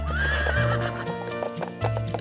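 A horse neighs loudly and close by, one long whinny that rises and shakes before fading into snorts and a few hoof clops.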